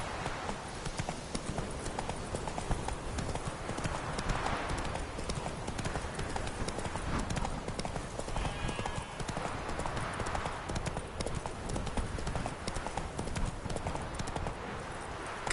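Roach, Geralt's horse in The Witcher 3: Wild Hunt, gallops with a fast, continuous clip-clop of hooves throughout, steady and fairly prominent over a soft game ambience.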